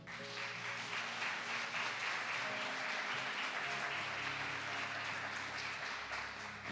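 A church congregation applauds during a Spanish-language worship service, producing a steady wash of clapping that holds for several seconds at moderate level, with faint tonal hum or music underneath.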